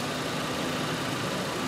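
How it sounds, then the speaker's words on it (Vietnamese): A 1.6-litre automatic Hyundai Elantra engine idles smoothly at close range, a steady low hum with a faint even hiss and no talking. "Máy nổ rất là êm."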